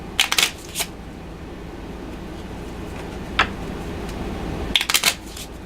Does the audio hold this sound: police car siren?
no